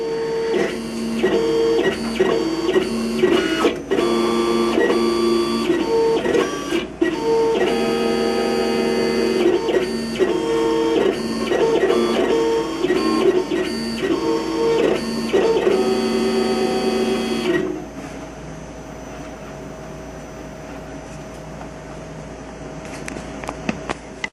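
A KNK cutting machine cutting an appliqué gives a loud, close mechanical whir with rhythmic motor tones and stepping pulses, stopping partway to leave a quieter hum.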